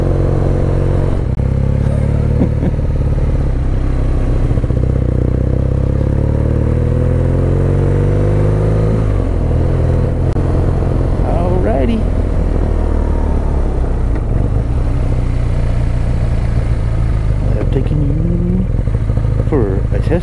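BMW R nineT Urban G/S motorcycle ridden on the road, its engine droning steadily and loud with a low rumbling note, changing pitch partway through, and brief voice sounds over it.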